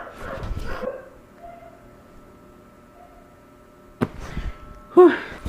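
Dogs barking faintly in bursts, a couple at the start and a sharp cluster near the end, separated by a long quiet stretch of soft background.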